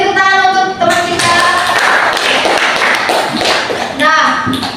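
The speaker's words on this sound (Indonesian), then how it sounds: "Beri tepuk tangan untuk teman kita." Students in an Indonesian language classroom clap for a classmate, a scattered round of hand claps mixed with children's voices talking and calling out over it.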